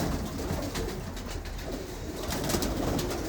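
Punjabi-breed racing pigeons coo steadily in a loft, a soft continuous murmur of overlapping calls at moderate loudness with no voices over it.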